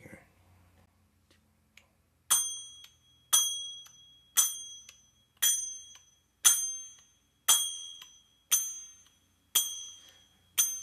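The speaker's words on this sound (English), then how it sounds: "This is called the manjira. These guys right here. I'm gonna record them in a rhythm here just for a second" Manjira, a pair of small brass hand cymbals, struck about nine times in a steady even rhythm, each bright ringing clash decaying before the next, close and clear with no talking over them.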